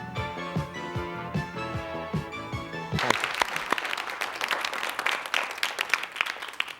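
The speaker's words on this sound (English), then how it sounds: "the fiancés and family of our new champions, the Barbers, are proudly applauding out there" A studio audience at the Guess What TV game show breaks into loud, dense applause after a few seconds of upbeat music, the clapping continuing steadily to the end.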